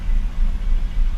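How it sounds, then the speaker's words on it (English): A Mercedes W-series SEL engine idles steadily after starting, a continuous low rumble close by with no voices over it. "I do have RPMs and engine runs normally"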